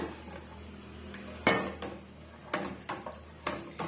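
Rice flour batter being stirred in a pot: a few light clinks and scrapes of a spoon against metal, irregularly spaced, fairly quiet over a low background hum.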